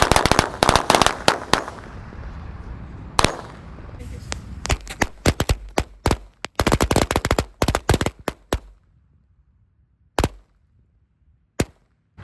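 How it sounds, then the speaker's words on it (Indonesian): Mercon korek firecrackers of several kinds, including KTP XXL and Corzair, go off outdoors in the late afternoon: a dense, loud crackling barrage, then rapid sharp pops that thin into a few isolated bangs. "eksperimen menyalakan semua jenis mercon korek sore ini"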